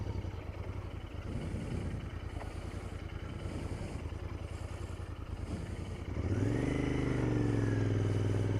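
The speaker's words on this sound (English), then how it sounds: "So you don't hear too much from the muffled engine when we're riding" A Royal Enfield Interceptor 650 motorcycle being ridden, its muffled engine a steady low drone that rises in pitch as it accelerates partway through, with wind noise over it.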